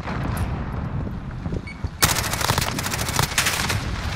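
Rapid automatic gunfire from Call of Duty: Modern Warfare bursts in loudly after a quieter stretch of game ambience, a dense stream of shots continuing to the end.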